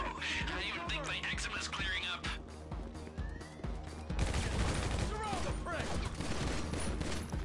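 Assault rifle gunfire in the GTA video game, dense continuous volleys of shots and overlapping firefights, loud and busy throughout with a heavier stretch in the second half.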